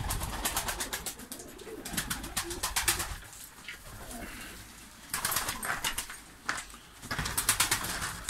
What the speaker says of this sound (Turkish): Burada da kendi uçurdukları kuşlar var.